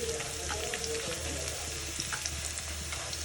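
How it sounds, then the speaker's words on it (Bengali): Onion, garlic and dried chilli frying in oil with a pinch of salt, ready for leafy greens and potato, a steady close sizzle and crackle with faint scattered pops and a low hum underneath. "এটা তুলে নিয়ে এসেছি, এখন আমি ভাজবো।"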